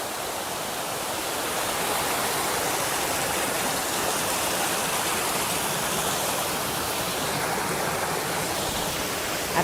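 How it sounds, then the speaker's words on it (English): Clean, cold mountain stream water flows steadily in a constant, full rushing wash that stays close and even throughout, with no voices. "there's plenty of good clean water right there."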